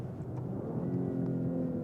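A 2021 Maserati Ghibli's engine revs up steadily as the car downshifts itself under throttle, a continuous low engine drone heard from inside with no talking.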